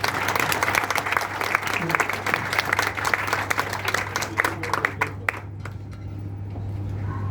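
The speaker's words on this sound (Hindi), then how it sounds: "जरा जोरदार तालियां बजाएं" Audience applause at a Hindi poetry gathering, a dense sustained wash of many hands clapping, steady and fairly loud with a low hum beneath, thinning out and stopping near the end.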